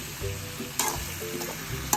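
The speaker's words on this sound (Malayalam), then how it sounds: "ഉപ്പിട്ട് കൊടുത്തതിന് ശേഷം നന്നായിട്ട് ഇളക്കണം അല്ലേ" Lime pickle with salt being stirred in a pan for a Kerala-style naranga achar, a short clip of soft scraping spoon strokes over a gentle sizzle, with a couple of sharper clinks against the pan and no voices.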